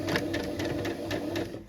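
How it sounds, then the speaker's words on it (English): Sewing machine running over a fabric strap cut from a skirt belt, a loud close continuous hum with rapid rhythmic needle ticking throughout. "I'm just sewing the strap."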